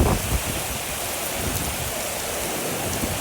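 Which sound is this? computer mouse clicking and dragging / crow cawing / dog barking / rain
rain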